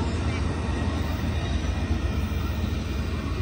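Continuous low roar and rumble of the Amtrak Coast Starlight passenger train passing in Oakland, California, steady and fairly loud throughout, with a faint high whine above it.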